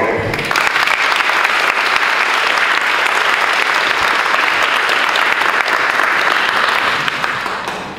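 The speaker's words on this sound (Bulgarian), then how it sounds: "Вашите аплодисменти за Манол" A crowd at a political rally breaks into loud, sustained applause, clapping steadily for several seconds before starting to taper off at the end.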